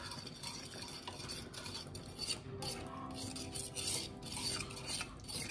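A spoon works steadily through a thickening milk and flour sauce in a pan, giving a continuous soft scraping and swishing at moderate, even loudness, with no talking.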